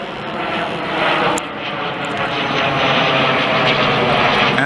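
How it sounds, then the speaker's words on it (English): Crop duster propeller airplane passing low overhead: a loud steady engine drone that swells slightly and holds for several seconds, with no talk. "Oh, it's a crop duster, I think."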